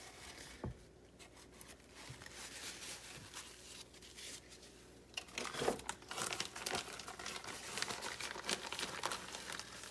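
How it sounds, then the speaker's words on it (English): A paper towel crinkles and rustles steadily as it wipes up a mess on a kitchen counter during cake baking, making soft, close, continuous crumpling noises that swell toward the end. "get a paper towel and clean my mess up a little bit."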